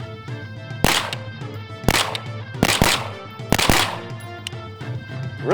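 Gunshots from a 16-inch rifle firing Mark 262 ammunition through a SureFire RC3 muzzle device, four sharp loud reports spaced about a second apart, each with a short ringing decay.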